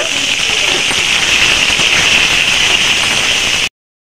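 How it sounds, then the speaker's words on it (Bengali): Potato pieces frying in hot oil with a little salt and turmeric make a steady, dense sizzle. The hiss is close and fairly loud and runs unbroken for about three and a half seconds before cutting off. "অল্প একটু নুন, হলুদ দিয়ে লাল লাল করে আলুগুলোকে ভেজে নেব।"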